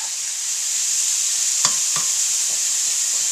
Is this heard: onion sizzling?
yes